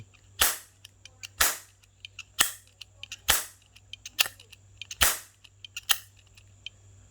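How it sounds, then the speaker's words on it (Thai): A plastic toy cap gun fires eight sharp, loud cracks at roughly even intervals of about a second, each snapping out alone with small clicks of the mechanism between shots. "เห็นไหมครบแปดนัด พอดี ยิงออกทุกลูกฮะ ใช้งานได้เห็นไหมนี่ ปืน แก๊ปพลาสติก"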